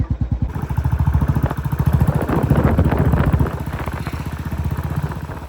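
A modified Royal Enfield Bullet motorcycle rides close by. Its loud, rhythmic engine thump quickens into a dense clatter, then eases back to a steady beat, with no voices.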